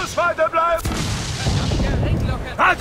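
A ship's cannons fire in a naval battle in the pirate game Assassin's Creed IV Black Flag: a heavy booming blast rolls out into a long rumbling tail, with shouted crew voices before and after.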